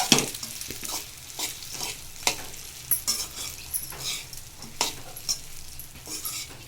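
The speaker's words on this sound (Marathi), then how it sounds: "हे छान घालून झाल्यानंतर आपल्याला इथे हे मिक्स करून घ्यायचे पूर्ण" A spoon stirs sabudana khichdi with potato and peanut powder in a pan, giving steady scraping strokes over a soft background sizzle, close and moderately loud.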